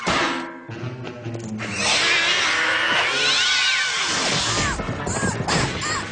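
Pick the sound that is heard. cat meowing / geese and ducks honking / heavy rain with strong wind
cat meowing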